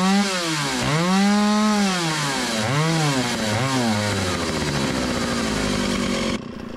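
An antique Stihl 028 Wood Boss chainsaw is revved hard and bogs at full throttle, its close, loud engine note repeatedly sagging and surging in pitch before steadying at a high whine.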